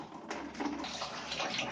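Water gushes steadily from the outlet of an electric geyser, a close, continuous hissing splash with small surges, no one talking.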